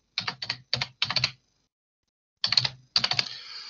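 Close, crisp keystrokes on a computer keyboard as a short prompt is typed, one quick run of taps, a pause of silence, then another short burst.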